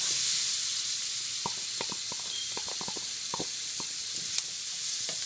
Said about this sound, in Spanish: Ahí tenemos nuestra mantequilla ya derritiéndose. Aquí vamos a hacer un rico arroz salvaje. Vamos a comenzar echando nuestra cebolla.